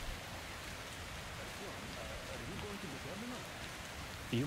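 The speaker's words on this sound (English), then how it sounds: "This rain's horrible." Steady rain in the video game Metro Exodus hisses across the whole clip, a dense wash of drops with a faint voice murmuring underneath and a brief louder sound at the end.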